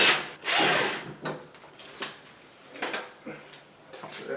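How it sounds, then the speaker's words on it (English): Painted-over screws being backed out of a door hinge with a power drill, a loud opening whir followed by shorter intermittent bursts and scraping, close by with no talk. "So I'm just gonna take out the screws on there."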